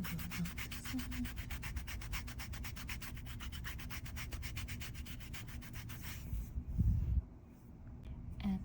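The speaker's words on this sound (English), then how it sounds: "you want to do a little bit of foot filing" A foot file rasps rapidly back and forth over the skin of a foot during a pedicure, a steady close scraping rhythm that stops abruptly near the end, leaving a brief quieter pause.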